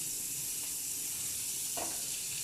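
Butter heating in a pan gives a steady, close hiss and sizzle that holds evenly throughout, with a faint clink of a utensil near the end.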